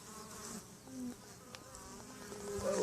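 Honey bees buzz steadily at a newly made hive split as the colony grows active again, a close, continuous insect hum with a few louder passes near the end.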